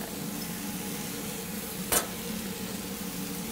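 Food sizzles in a Griswold cast iron pan as julienned ingredients fry, a steady close hiss broken by one brief sharp clink near the end.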